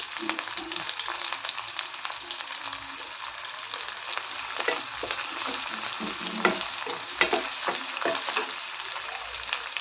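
Chopped onion fries in hot oil with cumin and mustard seeds, a steady close sizzle broken by frequent scraping stirs and small pops throughout.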